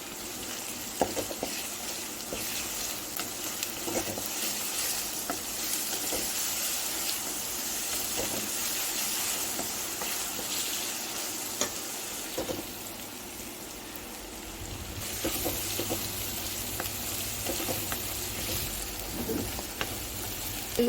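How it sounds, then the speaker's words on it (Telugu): Green chillies frying in a pan for a ridge gourd curry, giving a steady, dense sizzle that runs the whole time with faint clinks of stirring. No voices. "పచ్చిమిర్చి కూడా వేసేస్తుంది బాగా వేగాలండి"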